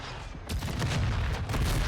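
Cannon fire from a Harrier jump jet strafing overhead in Call of Duty: Modern Warfare II, a dense burst of rapid gunfire and booms rolling on loud and continuous with no voices.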